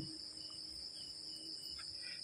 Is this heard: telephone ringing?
no